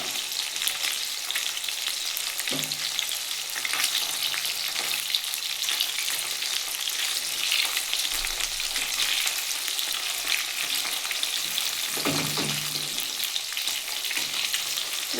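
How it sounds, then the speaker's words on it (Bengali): Bata fish frying in hot oil, a dense, steady close sizzle throughout with a couple of brief low knocks from the pan, fairly loud and with no voices. "বেশি কড়া করেও ভাজবো না আবার বেশি হালকা করেও ভাজবো না মিডিয়াম ভাজবো"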